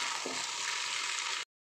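Pasta frying in a small kadai with egg still to be added, a steady close sizzle with a brief scrape of stirring near the start, ending abruptly after about a second and a half.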